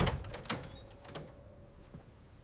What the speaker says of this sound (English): Immediately after that scream, the door swings open.